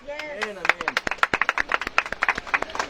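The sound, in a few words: congregation clapping loudly for the Lord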